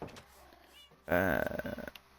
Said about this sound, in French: des dizaines de chats.